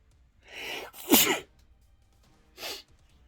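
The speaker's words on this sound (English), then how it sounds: "Oh, that was a big sneeze." A loud, close sneeze with a drawn-in breath before the burst, then a shorter second sneeze-like burst a moment later.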